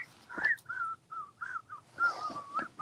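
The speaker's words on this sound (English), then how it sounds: "I can't really whistle." A lone person whistles a tune, an old soul song, in short wavering phrases with breathy gaps, close and fairly soft, with no talking.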